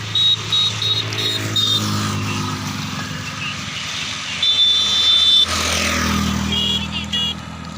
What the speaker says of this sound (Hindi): देखिए जो ये गाड़ी आ रही है हमारे गांव का एम्बुलेंस है